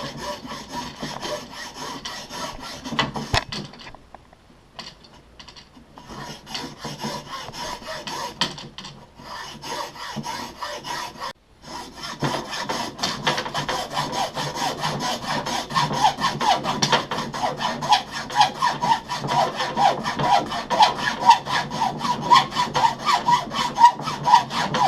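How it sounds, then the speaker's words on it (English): A hand saw cuts the butt cap off a fishing rod handle in steady, close back-and-forth rasping strokes. The sawing pauses briefly twice and then grows louder and faster toward the end, with no voices. "finished cutting the butt cap off"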